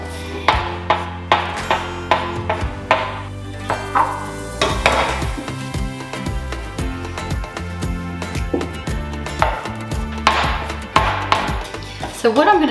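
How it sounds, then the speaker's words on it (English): Potato gnocchi dough sliced into segments with a knife and rolled on a board, giving a series of sharp, close cutting taps in a steady rhythm with softer rolling and handling sounds in between. "So now we're going to cut up and roll our gnocchi"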